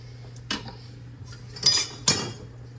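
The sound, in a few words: ladle scooping red sauce into a pan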